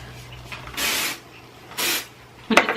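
Aerosol texture spray misted onto hair in two separate hissing bursts, each about a third of a second long, close and clear, followed by a brief click of the can.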